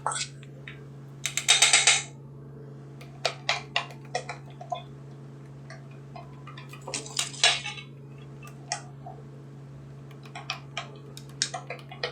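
Lentil casserole ingredients stirred together with baking soda in a dish, light clinks and scrapes of a utensil against the dish, sparse and gentle, over a steady low hum.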